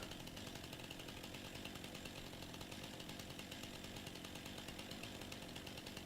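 A chainsaw cuts trees in Farming Simulator 2019, giving off a steady, unbroken buzzing drone at constant loudness for the whole stretch.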